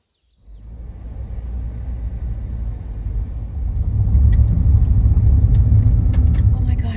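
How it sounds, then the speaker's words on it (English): A car pulling up on a highway: a low engine rumble starts abruptly and swells steadily louder and nearer, with a few faint clicks and rattles near the end and no clear speech. "And another car has pulled up."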